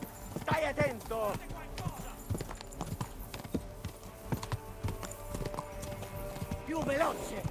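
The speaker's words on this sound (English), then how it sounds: "Not to worry, I'm on Pebbles, the fastest horse in the lands." A horse gallops in a video game, its steady, rhythmic hoofbeats running throughout at close range while voices talk over them.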